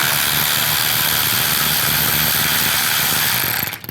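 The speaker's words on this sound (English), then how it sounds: "Take these 3 10mm bolts out" A 10mm socket wrench turning out a side mirror bolt on a Buick LaCrosse, heard as a dense, steady mechanical whir and ratcheting buzz held loud and close throughout, then cutting off abruptly near the end.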